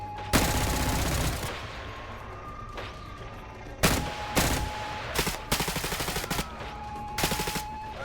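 Bursts of automatic gunfire crack and rattle in the video game Helmet, coming in several short volleys separated by brief pauses over a steady background tone.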